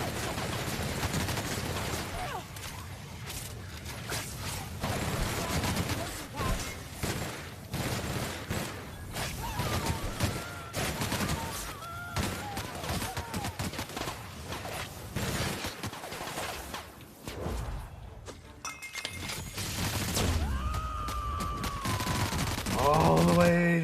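Rapid bursts of gunfire cut down enemies in the video game The Outer Worlds, with dense automatic shots, crashes and whooshes running continuously and loudly throughout.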